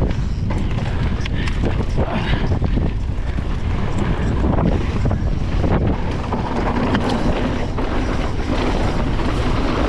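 Wind buffeting the microphone outdoors during a mountain bike ride on drying dirt trails, a loud, continuous rushing roar that stays constant throughout.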